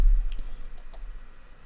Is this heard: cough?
no